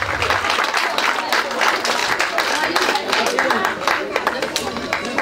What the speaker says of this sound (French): Ce monsieur, je veux que vous l'applaudissiez aujourd'hui